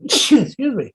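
A single sharp, close sneeze on a talk podcast, loud and abrupt, followed at once by a brief spoken apology.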